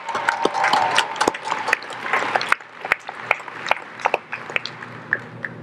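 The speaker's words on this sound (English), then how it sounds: "let's give him a warm round of applause for his leadership here in this time" A commencement audience claps warmly for President Mason in a dense burst of applause that thins out into scattered, separate claps near the end.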